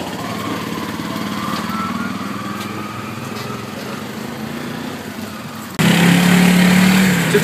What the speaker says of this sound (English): we're going to take a tuk-tuk. Basically, it's like the taxi of Guatemala.